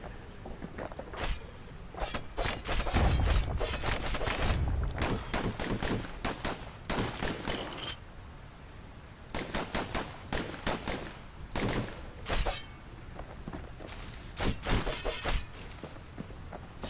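Dual slinger pistols fire in the video game Bastion, clattering out rapid clustered bursts of sharp shots in repeated volleys with short pauses between them, loud and close over a low game soundscape.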